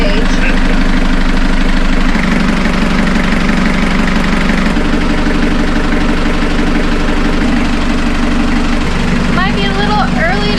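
A boat engine, back in service after an injector problem, runs in a loud, steady, close-up drone with a deep low rumble that holds without a break throughout.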